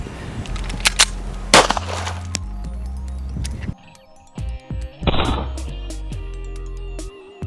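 .40 caliber handgun rounds fired into a block outdoors, several sharp, loud cracks and impacts spaced a few seconds apart, each followed by brief debris rattle and quiet gaps.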